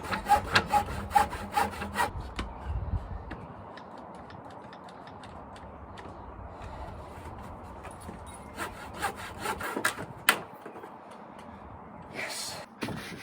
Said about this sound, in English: Great inventions, them circular saws,